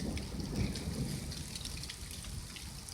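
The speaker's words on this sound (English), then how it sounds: "Yep, it is raining now. It's raining and thundering." Rolling thunder rumbles low and loud in the opening second during a thunderstorm, then eases into a steady hiss of rain falling outside that continues throughout.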